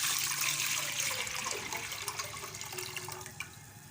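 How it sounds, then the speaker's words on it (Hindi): A steady rush of about two litres of water pours into a metal pressure cooker close by, continuous and fairly loud, with no one speaking. "सबसे पहले हम कुकर में तकरीबन 2 लीटर पानी डालेंगे।"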